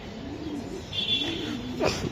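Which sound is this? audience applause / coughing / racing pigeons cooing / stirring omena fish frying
racing pigeons cooing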